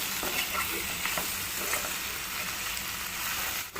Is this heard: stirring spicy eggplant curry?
yes